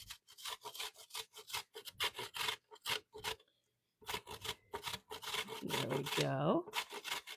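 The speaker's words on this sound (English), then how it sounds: "we're just going to do a couple grates of a carrot in here." A carrot is grated on a hand grater in a kitchen: a run of quick, close rasping strokes, a short pause, then more strokes with a voice speaking over the end.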